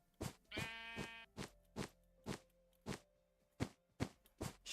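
A single Minecraft sheep bleats near the start, a short wavering call over a steady run of blocky footsteps and soft game ambience.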